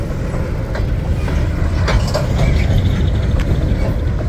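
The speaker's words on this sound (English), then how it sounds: "It's like we got an empty coal train." An empty Union Pacific coal train rolls past near a rail yard in DuPont, Illinois, a loud, steady rumble with rhythmic wheel clicks and metallic clanks from the empty cars, close by and continuous.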